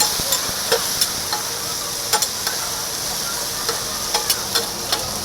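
Prawns frying in a pan at a roadside fish stall, a loud continuous sizzle with faint scattered ticks and clinks of stirring on top, close by and steady.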